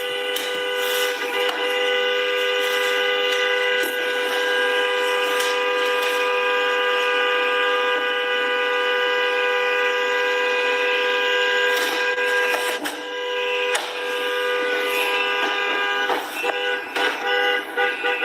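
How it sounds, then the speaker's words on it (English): Many whistles shrill together in a crowd, forming a dense, continuous chorus of high pitched tones that holds steady at a loud level for the whole stretch, with no talking. "Look, this whistle's being blown right here."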